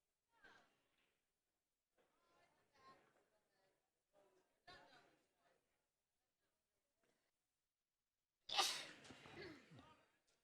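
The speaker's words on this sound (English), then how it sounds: "Bless you." A single loud, close sneeze bursts out near the end, following quiet, scattered chatter in a pool room during a 9-ball championship broadcast.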